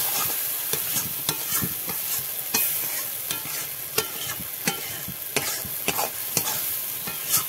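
Pea paste fries in a pan while a spatula stirs and scrapes it in repeated, regular strokes over a continuous sizzle, close and clear with no talking.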